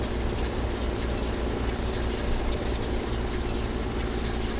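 In Farming Simulator 2015, a tractor pulls a windrower with a continuous dense engine drone that stays loud and even, with no pauses or talk.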